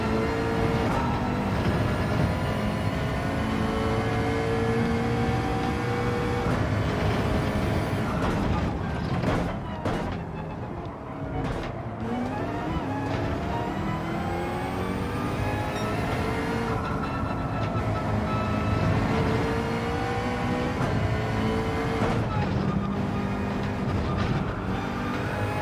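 A mid-engine car in Gran Turismo 7 drives under constant, loud engine drone, its harmonic pitch sweeping up and down through shifts and corners, with brief dips and bursts of revving across the run.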